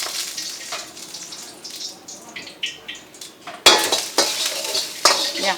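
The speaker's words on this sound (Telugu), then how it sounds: "ఫస్ట్ ఆయిల్లో తీసుకొని మనకి గార్లిక్ అనేది వేసేసి నెక్స్ట్ వచ్చేసి మనం ఇందాక చెప్పిన ఐటమ్స్ అన్నీ కూడా యాడ్ చేస్తున్నారు ఒక్కొక్కటిగా" Garlic and other ingredients frying in hot oil in a café kitchen, with steady sizzling broken by sharp clinks and scrapes of a metal utensil stirring against the pan, louder bursts toward the end.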